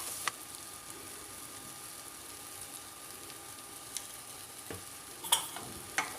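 Moong dal and salt being stirred in a pan for sabudana khichdi, a steady low sizzle with soft scraping and a few faint utensil clicks near the end.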